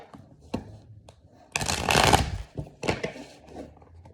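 Tarot cards shuffled by hand, a few quick riffling bursts with a longer dense flutter in the middle, close and clear with no talk.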